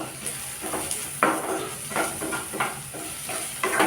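Ginger, green chilli and onion sauté in a pan, a steady sizzle broken by several louder scraping stirs in an uneven rhythm, close and fairly loud.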